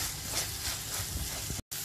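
Ginger garlic paste fries with onions in hot oil, giving a steady, soft sizzling hiss that breaks off for a moment near the end.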